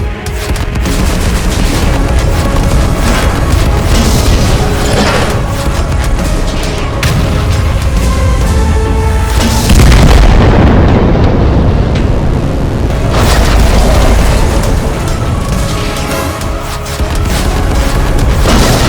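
Loud, sustained artillery fire and explosions pound a bunker in a tank cartoon. Heavy booms and rumbling blasts overlap densely with a swelling burst near the middle, all continuous and close.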